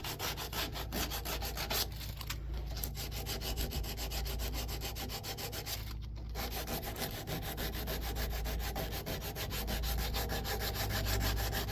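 A wooden double barley twist candle stick holder being hand sanded with 80 grit sandpaper, with continuous close rubbing strokes in a steady back-and-forth rhythm and no talk.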